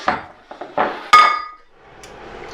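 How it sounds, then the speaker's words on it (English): A muffin pan is pulled out and handled, giving a few sharp metallic clanks and rattles that ring briefly, close by with no voice. "Now we're going to get our muffin pan."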